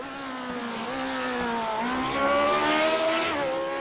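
A Lotus 79 race car in a racing game, driven at Twin Ring Motegi, holds a loud, steady engine howl whose pitch rises and shifts through gear changes, with no voices over it.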